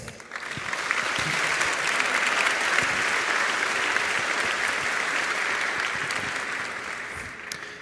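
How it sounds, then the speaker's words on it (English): Audience applause at an EDHEC Business School celebration on the Lille campus, a steady, moderately loud wash of clapping that holds for about eight seconds without talk. "So let's make them another round of applause again."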